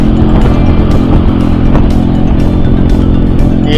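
Benelli Motobi 200 EFI motorcycle riding along a road between rice fields, its engine and wind roar a steady, loud, unbroken drone throughout.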